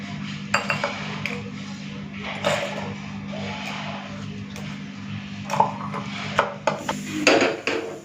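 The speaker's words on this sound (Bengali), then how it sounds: "পোস্ত কাঁচা লঙ্কা দিয়ে পোস্তটাকে পুরো প্লেন করে বেটে নেবো" Poppy seeds and two green chillies ground by hand on a stone grinding slab, a steady close rasping and rubbing scrape punctuated by a few sharper knocks and clinks, with a low steady hum underneath.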